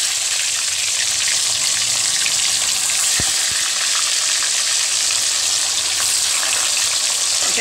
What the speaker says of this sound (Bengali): এবার আমি মাছগুলো ছেড়ে ঢেকে ঢেকে ভাজব।